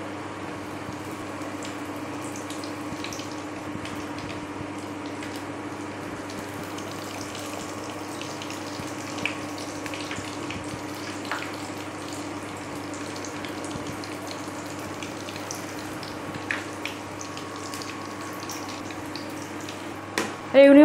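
Raw banana fritters fry in hot oil with a steady, even sizzle that holds for the whole stretch, with a few small clinks near the end and no talking.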